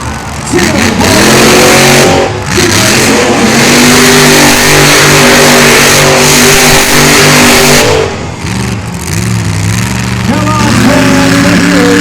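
A mud racing truck's engine revs hard and loud through a mud pit at an outlaw mud racing event in Miami, Oklahoma, roaring steadily with surging pitch changes while an announcer talks over it.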